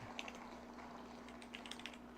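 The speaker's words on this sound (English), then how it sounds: "I'm typing and I'm not on the wrong window." Faint keystrokes on a computer keyboard in quick, uneven bursts, quiet and somewhat distant against a steady low hum, with no talking.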